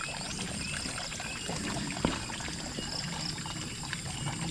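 Water from a spring runs weakly in a steady, trickling pour on a farm. It sounds close and fairly continuous, with one faint knock partway through.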